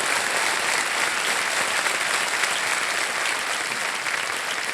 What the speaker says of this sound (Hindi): ताली बज जाए इनके लिए जोरदार।